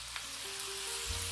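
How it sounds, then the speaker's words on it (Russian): Meat and vegetables frying for plov give a steady, close sizzle throughout, with a low hum and faint tonal whine underneath and no talking. "Жарим мясо с овощами."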